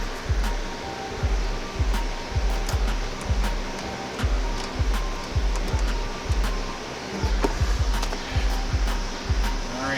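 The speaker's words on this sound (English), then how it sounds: "I got the fan on." A small fan runs steadily to cool a camera during a console install in a 2003 Honda Element, giving a close, even rushing whoosh with a soft rhythmic low thump pulsing about twice a second throughout.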